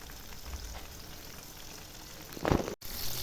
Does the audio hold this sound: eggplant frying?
yes